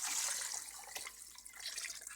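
About 1.5 quarts of cold water poured into a pot of browned goulash soup, a faint, steady splashing stream with small drips, quiet and without talk.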